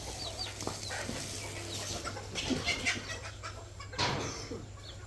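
Hens cluck softly on and off with thin, high peeping from chicks at a market stall, over a low steady hum.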